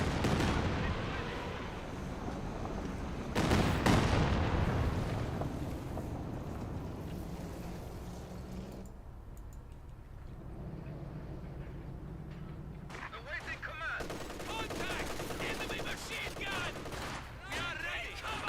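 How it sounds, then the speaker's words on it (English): A Katyusha rocket barrage and gunfire in the Company of Heroes 2 strategy game sound as a dense, continuous roar of blasts and rumbling, with a heavier burst early on and a voice talking over the battle. "And here comes the Katusha barrage trying to hit these forces."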